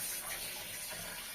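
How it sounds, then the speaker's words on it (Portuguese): Running water splashes as a face and neck are rinsed, a steady, close, hissing gush without a break, and no talking. "Aí, enxago, né, meus amores?"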